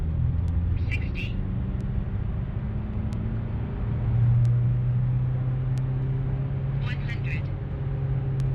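Interior of an MK4 TDI car on a test drive, a steady low diesel drone and road rumble with faint ticks and brief high chirps, while a person speaks over the noise.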